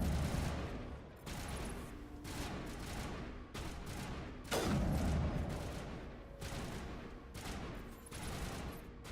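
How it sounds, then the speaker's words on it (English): Rapid video-game gunfire from a Mass Effect firefight, dense overlapping bursts and automatic volleys crackling continuously at moderate loudness, with a sharper heavy blast partway through. "Stop shooting at the pillar"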